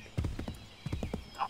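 Quick hollow hoofbeats of a galloping horse in the video game Assassin's Creed 3, a few rapid clip-clops in irregular bursts, with brief voice sounds mixed in.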